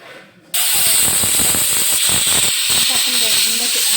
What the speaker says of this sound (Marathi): आता आपण एक किंवा 2-3 शिट्या काढून घेऊ.